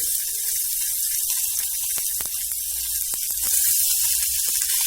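Onions sizzle in leftover oil in a pan for a Tamil mixed chutney, a steady close hiss with scattered pops and crackles throughout.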